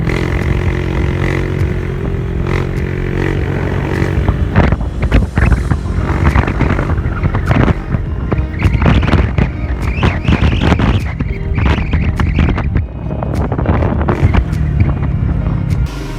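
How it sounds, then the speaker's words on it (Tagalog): A Honda Click 125/150 scooter on a test drive after an oil change, its engine rising and falling with throttle under loud, constant wind buffeting on the microphone, no talking. "i-test drive na natin siya mga boss"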